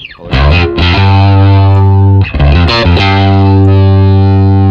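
Bass guitar played through a drive effect on an HX Stomp XL, loud and close, with sustained distorted notes and a brief re-pick partway through.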